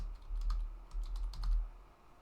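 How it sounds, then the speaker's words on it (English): Keystrokes patter quickly on a computer keyboard in quiet, close bursts of soft clicks, with short pauses between the runs. "I can type a custom message in here"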